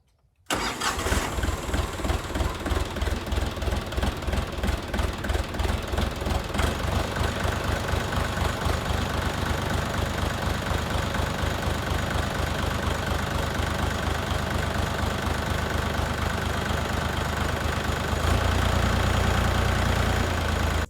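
A ДТЗ 5354 tractor's diesel engine cranks briefly, catches and settles into a loud, steady knocking idle up close, with a slight rise in revs near the end; no voices.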